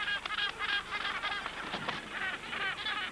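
Cape gannets at a breeding colony give a rapid series of harsh, honking calls, loud and close, in an irregular chattering rhythm.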